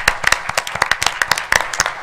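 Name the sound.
applause at a city council meeting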